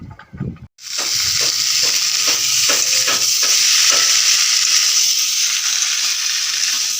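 After a brief clatter, okra hits a hot pan and sizzles loudly in a steady, bright hiss that holds for several seconds, with no talking.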